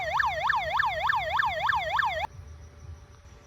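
A rapid, warbling electronic police siren tone from an aftermarket siren fitted to a Toyota HiLux yelps in quick repeated sweeps, loud and close, then cuts off abruptly into quiet background hum.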